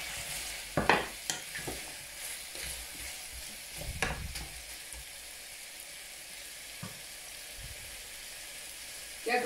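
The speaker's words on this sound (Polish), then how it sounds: "Około minut albo 2 minuty tak smażymy tego kurczak." Chicken thighs fry in a pan over a weak flame, a steady soft sizzle broken by a few scraping stirs early on and another near the middle, then quiet frying.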